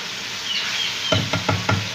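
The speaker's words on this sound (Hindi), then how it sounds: "10-15 मिनट के लिए हमें इसको भूनना है।" Chicken karahi being fried in a pan with a soft sizzle, broken near the end by four close, evenly spaced knocks of a spoon against the pan, with no talking.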